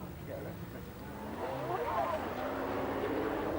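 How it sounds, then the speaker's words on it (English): Rally car from a 1992 ARC National Rally spinning its wheels on a second climb attempt, the engine droning at steady high revs that rise slightly as it strains, heard at moderate distance with a voice talking over it. "an awful lot of wheel spin here on the second attempt"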